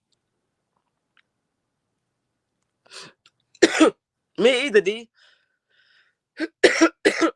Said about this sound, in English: I got to stop coughing.